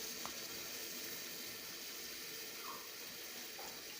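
Water runs steadily into a cooking pan while a dal dish is being made, a continuous mid-loud splashing and hissing wash over the whole stretch, with no voices.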